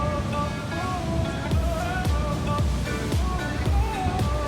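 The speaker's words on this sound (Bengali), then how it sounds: "সমুদ্রটা এখানে ভীষণই অশান্ত" Rough, churning ocean surf breaks against volcanic rock pools on a Hawaiian shore, a steady broadband wash with repeated surges, mixed with wind and a faint tonal background.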